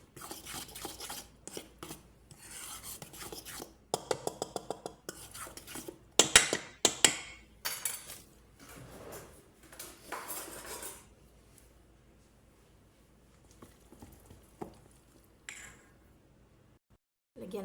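A utensil mixes mango cake batter in a bowl or pot, making quick clinking scrapes in rhythmic bursts. The clatter is loudest midway and then fades to quiet, with occasional faint taps.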